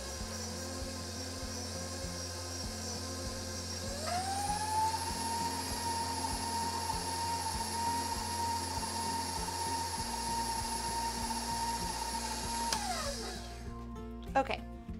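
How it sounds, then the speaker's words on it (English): An electric mixer beats vegan fat and sugar together for a vegan vanilla cake, a steady close motor whir that shifts pitch as it speeds up, then cuts off near the end. "So we're just gonna mix this up until it gets nice and creamy."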